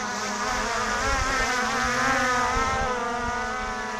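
A Skydio 2 or Mavic Pro Platinum drone hovers overhead, its propellers giving a steady, loud, buzzing whine like a beehive, with a wavering pitch that shifts as it moves.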